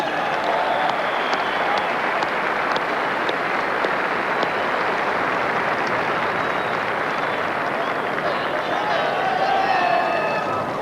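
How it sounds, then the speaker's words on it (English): Stadium crowd applause at a 1994 rugby league grand final presentation between Eastern Suburbs and Cronulla-Sutherland, a sustained, distant roar of clapping and cheering with faint voices mixed in. "could you please keep your applause going"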